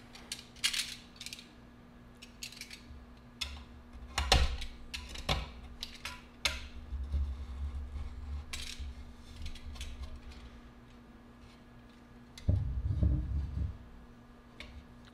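A knife scratches and scrapes across a carbon fiber bike frame, producing a scattered series of sharp clicks, ticks and gritty scrapes, with a louder rough grinding stroke near the end.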